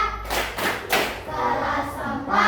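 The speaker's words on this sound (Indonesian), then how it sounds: "Tepuk anak hebat." A fourth-grade class does a patterned group clap, a few quick bursts of hand claps and thumps in a classroom, loud and close.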